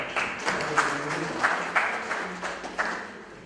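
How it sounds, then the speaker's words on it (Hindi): Audience applause at an award ceremony honouring talented people at DMR Hospital, Moradabad, a moderate crowd clapping with a few louder bursts, heard somewhat distant in a hall. "मैं चाहूँगा कि एक बार आप सभी लोगों का ताली हो जाए।"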